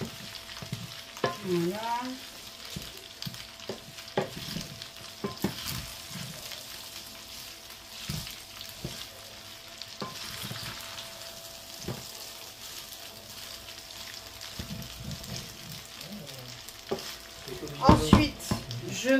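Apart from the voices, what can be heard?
sautéing bacon lardons in a pan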